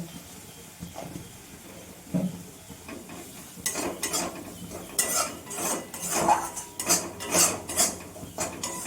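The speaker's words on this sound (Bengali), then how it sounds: "এখন আমি মশলাটা কষিয়ে নেব।" Spice paste with turmeric and a little salt being sautéed in a pan for a Bengali mustard pabda fish dish, with a spoon scraping and clinking against the pan in repeated bursts over a soft sizzle, growing busier toward the end.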